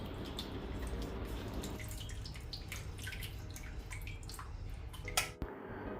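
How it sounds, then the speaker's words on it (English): Water poured into a pot of peeled mangoes for a mango curry, a steady close splashing and trickling that runs throughout with a few small drips and a brief clatter near the end. "Now add all the water to the peeled mangoes."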